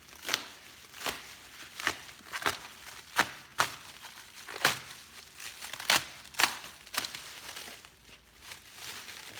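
Plastic stretch wrap on a pallet of small electronics returns is cut and pulled open. It makes a string of sharp, close crinkles and crackles at an irregular rhythm, fairly quiet overall.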